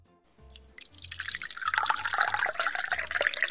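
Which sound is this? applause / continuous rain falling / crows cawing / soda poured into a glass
soda poured into a glass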